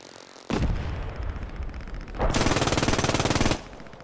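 Machine gun fire in the World War II shooter Post Scriptum, two loud close sustained bursts, the second a rapid even stream of shots, with no talking.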